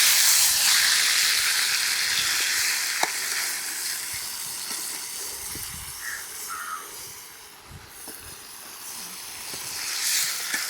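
Kappa (tapioca) being stirred as it fries in a pan, a steady close sizzle and hiss with occasional scrapes and clinks of the spoon, continuous throughout.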